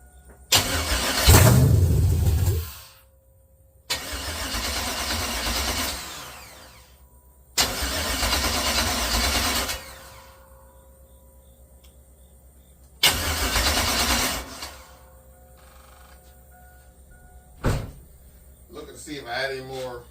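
A Chevrolet S10 mini truck engine cranks and fires, then repeats in several separate attempts of a few seconds each, loud and close, with a brief clunk near the end.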